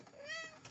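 A domestic cat gives one short, quiet meow, rising then falling in pitch, close by but faint, with no talking over it.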